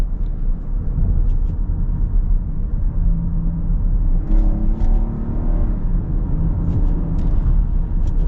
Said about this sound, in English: let's pop it over into the sport mode here, and we'll get a little acceleration